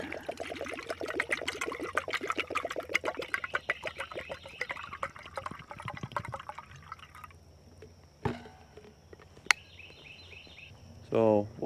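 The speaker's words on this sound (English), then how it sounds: "Fill up my kettle with some water here." Water pours and splashes into a kettle from a Trangia 27-8 alcohol cook set, a busy trickling run at first that thins out, followed by a few sharp clinks and a brief burst near the end.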